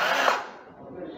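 A Hilti cordless power tool whirs briefly as its trigger is pressed, a loud high-pitched motor whine that spins down within half a second while someone talks over it.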